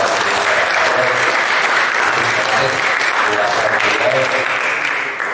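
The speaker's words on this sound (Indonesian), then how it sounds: "tepuk tangan lagi sekali kepada Pak" An audience applauds again for a speaker at a cultural lecture event in Bali, a loud, dense clapping that holds steady for several seconds before easing off right at the end.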